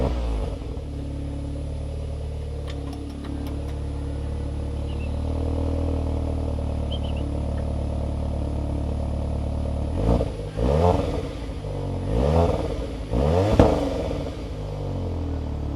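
A coupe's engine idles with a steady low hum, then revs several times in quick succession, each rise and fall of the motor clearly audible and close by.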